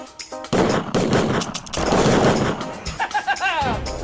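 Gunshots in a full-motion-video police shooting game, a dense loud fusillade of bangs with rapid repeated shots. Game voices and chirpy effects are mixed in near the end.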